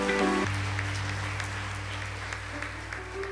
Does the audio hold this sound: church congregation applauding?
yes